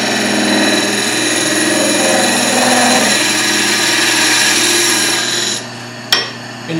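Wood lathe spinning while a skew chisel cuts the turning workpiece, a loud steady whirring hum with a rough scraping texture that drops off near the end, followed by a brief sharp knock.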